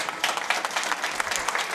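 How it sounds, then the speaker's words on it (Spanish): Applause from a crowd at a children's party presentation after a kid wins a balloon, a dense, steady wash of many hands clapping close by throughout the brief moment. "Aplausos para él."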